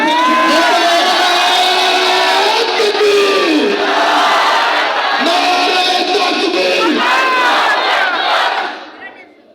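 A large crowd of Muslim men roars a takbir chant in unison, loud, sustained shouting with rising whoops that tapers off sharply at the end.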